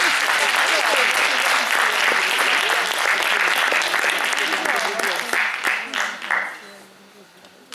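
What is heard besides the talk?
audience applause for a choir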